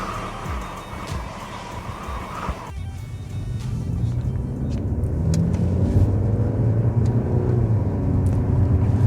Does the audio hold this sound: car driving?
yes